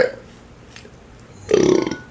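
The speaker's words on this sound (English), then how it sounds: "Sorry for all the burping" A man burps after a swig of a drink, one soft short belch followed by a louder, drawn-out burp near the end, close to the mic with no talking.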